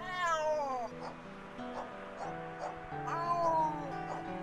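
A cat meows in the video game Simulacrum, several drawn-out, rising and falling cries in sequence, close and clear, with faint voice-like sounds underneath.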